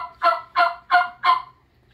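A person imitates a turkey gobble: four quick, throaty warbling bursts in an even rhythm, close and fairly loud, then silence.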